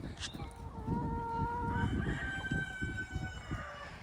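A rooster crows in long drawn-out calls while hens cluck steadily close by, all outdoors with no talking.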